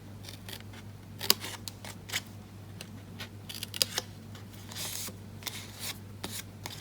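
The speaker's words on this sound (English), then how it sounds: "Coming back to the top, we're going to cut up all those other score lines." Scissors snip along the score lines of a cardboard Halloween treat box, a close series of irregular crisp cuts and paper rustles over a low steady hum.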